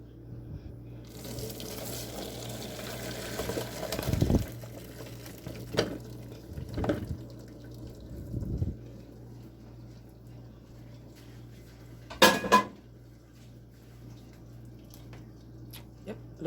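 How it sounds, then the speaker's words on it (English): Boiled broccoli tipped into a strainer in a kitchen sink gives a few clattering splashes and knocks, then a steady low running-water hiss as it drains, with a sharp metallic clank partway through. "Now I'm just going to just throw this in the strainer right here."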